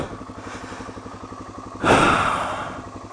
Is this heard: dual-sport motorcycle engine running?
yes